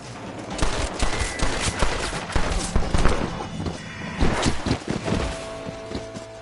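Rapid gunfire in Red Dead Redemption 2, a dense run of close, loud shots and thuds crackling in irregular bursts through the whole stretch, with faint voices beneath.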